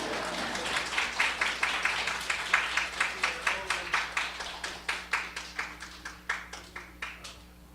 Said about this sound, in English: And then in America we clap